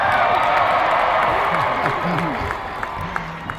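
Keynote audience applauding Delta Airlines CEO Ed Bastian, a broad wash of clapping and crowd noise that is loud at first and gradually thins out, with a voice talking over it.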